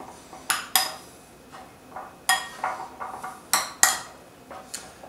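Veggies and protein being mixed in a bowl with a utensil, a series of separate clinks and scrapes against the dish at an irregular pace, close and distinct with quiet gaps between.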